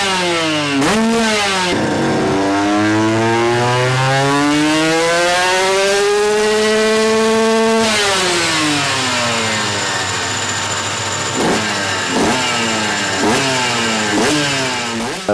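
A Suzuki RM 125 motorcycle on a dyno, its engine revving loud and close in long climbing sweeps that fall back, then short sharp blips near the end, with no talk.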